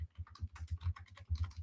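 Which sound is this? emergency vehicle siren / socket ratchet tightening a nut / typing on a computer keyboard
typing on a computer keyboard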